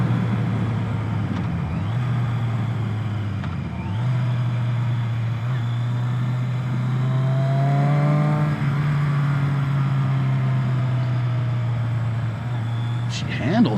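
A Yamaha Maxim 700 four-cylinder cruiser motorcycle accelerates in a continuous, loud engine drone whose pitch holds and then climbs slightly, heard from the rider's position with steady wind rush throughout.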